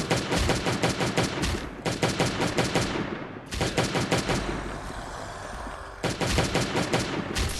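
A lab gun fires in the Last Day on Earth Survival game, loud rapid automatic bursts of close gunfire in three long strings separated by short pauses, with a fading echo between them.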